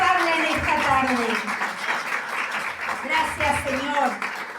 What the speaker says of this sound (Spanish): Dale palmas al Rey de Reyes y Señor de Señores